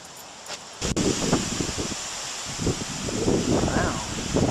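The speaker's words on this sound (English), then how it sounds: "Oh, what a lovely rainy day." Wind and rain on a blustery day with dark skies: broadband gusty rushing and rustling outdoors, loud and close to the microphone, swelling and easing over a few seconds.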